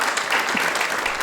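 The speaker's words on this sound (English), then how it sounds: "Yeah, it's all right. You can clap." A live audience at an event in Berkeley, California claps in a brief burst of thick, even applause, fairly loud and close.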